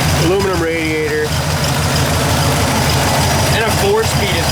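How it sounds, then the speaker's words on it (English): A 1965 Pontiac LeMans convertible GTO tribute with headers and dual exhaust idles steadily, a deep continuous rumble running beneath someone talking throughout. "beautiful running engine, and tons of power"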